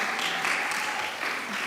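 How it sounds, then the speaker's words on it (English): Audience applause at a Kabbalat Shabbat service, a dense steady patter of clapping filling the room at moderate loudness. "yes, definitely a big round of applause"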